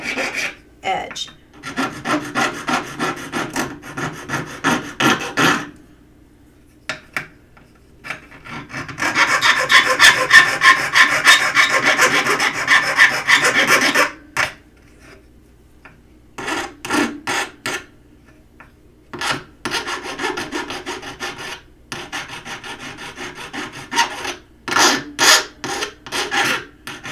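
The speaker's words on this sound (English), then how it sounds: "do go ahead and file it down to create a nice smooth" A hand file rasps along an exposed edge to smooth it, in repeated rhythmic strokes that come in separate bursts with short pauses between them, close and fairly loud, with no talking.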